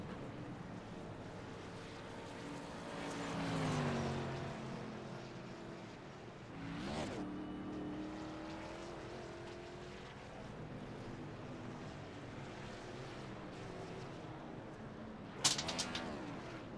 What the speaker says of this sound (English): His signature burnout up at that start finish line, burning it down here.